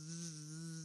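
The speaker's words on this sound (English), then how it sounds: "Bee." A bee buzzes in a steady, even drone for under a second, close and alone with no talk over it.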